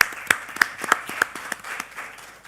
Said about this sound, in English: I think you all deserve a big round of applause for yourself.